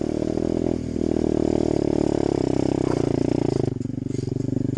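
Apollo 125cc dirt bike creeping slowly up a hill, engine held at a low steady putter with light clattering and a brief rev near the end.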